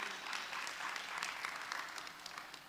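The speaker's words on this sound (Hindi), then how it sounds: "आप भी जोरदार तालियों से स्वागत करें।" An audience at a children's poetry festival in Ayodhya breaks into steady applause, a continuous, fairly faint wash of many hands clapping for the whole stretch.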